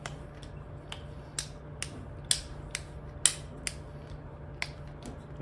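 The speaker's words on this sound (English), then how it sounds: "Lift the handle and just keep rotating it." Ratcheting clicks from a rotating handle with a welded nut tightening onto a bolt with a washer, TagBot foot option: sharp, irregularly spaced clicks and creaks, close up, over a steady low hum.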